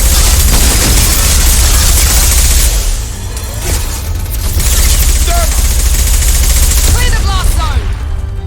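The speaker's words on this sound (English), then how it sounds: "Assault rifle." Assault rifle fire in the video game Mass Effect: dense rapid bursts and booming impacts in a loud, chaotic firefight with a spoken voice over it.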